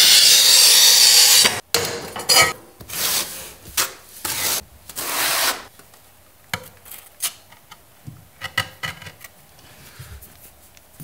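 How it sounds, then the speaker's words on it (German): Boards cut to size while installing a bathtub on a tub support frame: a loud burst of harsh cutting noise at the start, then a series of scraping, rubbing and tapping sounds, close and without speech. "Platten auf Maß schneiden."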